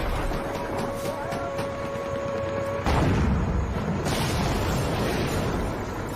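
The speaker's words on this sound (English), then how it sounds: "One blast from its 76mm main gun left the front of the TOC in ruins." A heavy, dense blast from a tank's 76mm main gun, set in a battle at Lang Vei during the siege of Khe Sanh. A sharp onset leads into a broad rumbling roar that keeps on under a steady wash of background noise.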